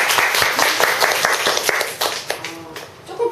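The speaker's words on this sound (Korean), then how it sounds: "박수 한번 치셔야 되는데요." Audience clapping after a picture-book presentation, loud and dense, with crisp individual claps close by, tapering off toward the end as a voice begins under the last few seconds.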